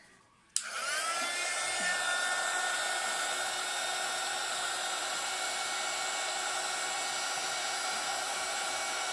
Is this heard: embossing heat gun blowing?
yes